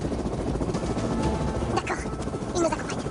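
Helicopter rotor and engine drone steadily, close and loud, as the aircraft readies for takeoff in a French action film, with people talking over it.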